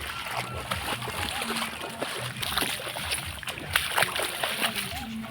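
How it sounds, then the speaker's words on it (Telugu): Footsteps wade through water on a flooded path by farm fields on the way to fishing, making repeated close splashes and sloshes at an uneven walking rhythm, with people talking over them throughout. "మొత్తం వాటర్ ఈ వాటర్లో కూడా నడిచి వెళ్తాం"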